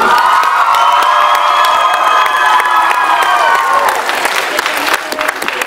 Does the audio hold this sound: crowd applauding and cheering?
yes